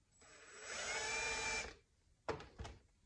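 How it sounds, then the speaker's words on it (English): A power drill cuts a countersink into a hole during a 450RL build, whining steadily for about a second and a half, then two short bursts follow, with no talking. "We're going to put a little countersink in it so it looks nice."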